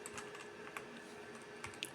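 A root password typed on a computer keyboard during a system installation, quiet close keystrokes in irregular clusters over a faint steady room hum.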